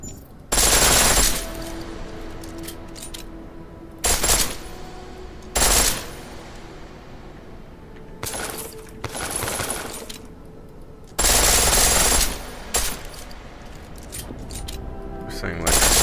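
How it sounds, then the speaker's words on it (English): A pistol firing on full auto in the video game Deus Ex Mankind Divided, several loud, sharp bursts of rapid shots separated by pauses, close, with quieter game sounds and some talk between. "The pistol in full auto will take down targets fast, but it'll burn through your ammo."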